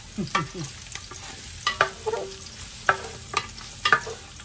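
Garlic sizzling in a large pan as it is stir-fried for Filipino chopsuey, a steady close frying hiss broken by repeated scraping and clinking strokes of the spatula.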